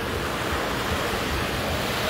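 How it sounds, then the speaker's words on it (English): Ocean waves wash steadily onto the shore at Toco Beach, making a continuous broadband rush mixed with wind noise on the microphone. The sound is fairly loud and there is no speech. "We got the ocean at the back there,"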